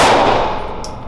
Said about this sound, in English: Bullseye, first shot.